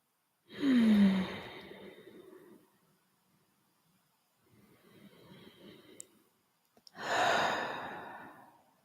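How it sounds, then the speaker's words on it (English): Slow, deep breaths drawn in through the nose and let out, close and airy: a long strong breath, a softer quieter one, then another full breath, with silent gaps between. "take those deep breaths in. Focus on that inhale and just let it out quite naturally without too much focus on the exhale."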